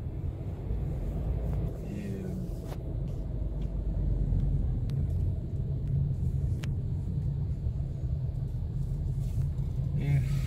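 Steady low rumble of cars speeding past on a busy freeway in Brazil, a continuous dense wash of tire and engine noise from fairly close with no talk, a few faint higher clicks scattered over it.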